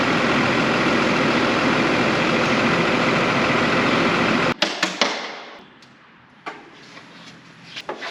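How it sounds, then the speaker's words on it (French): A model 830 tractor's heavy engine drones steadily while it lifts on its front hitch, then cuts off abruptly, leaving quiet with scattered clanks and knocks. "je vais lever le tracteur avec le relevage avant."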